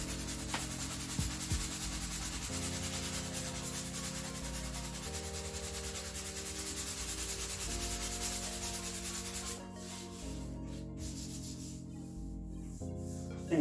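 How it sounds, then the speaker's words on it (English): A sander works over creased upholstery on a Porsche seat, a steady close rubbing and grinding that runs without a break, its tone shifting now and then as the pressure changes, with a lighter scraping toward the end. "Just take all the dust off that I've probably created with the sander"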